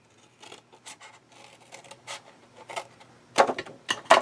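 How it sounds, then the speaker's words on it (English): Scissors or a blade cut across chipboard for a craft display box in a series of short, close scraping and snipping strokes that grow louder toward the end, with no talk. "I'm just going to cut right down across that."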